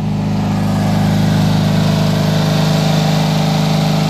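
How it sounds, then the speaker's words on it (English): A Simplicity Magnum 18 garden tractor engine runs steadily close by on a cold snowy day, a loud, even, droning hum with no speech. "If you listen, you'll hear the sound of a guilty ass Simplicity."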